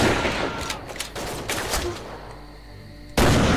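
A sniper rifle shot in Commandos: Strike Force rings out in a sharp burst with a decaying tail, followed by a quieter lull, then another loud blast at the end.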